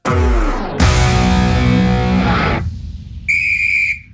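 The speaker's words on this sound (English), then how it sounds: "Ref's whistle." A short, shrill referee whistle blast rings out near the end, loud and sharp, following a stretch of distorted, heavily processed tones.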